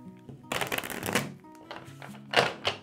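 Cards being shuffled up close: a quick riffle of crisp flutters, then a couple of short, sharp snaps as the deck is squared.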